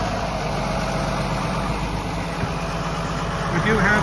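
Deutz-Allis 7110 four-wheel drive tractor idling at an Ontario auction: a steady, low diesel rumble that holds even throughout, with a voice talking over it.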